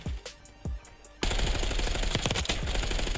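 Video game gunfire in a shooter, a few scattered shots followed by a dense sustained burst of rapid automatic fire, loud and close with no talking.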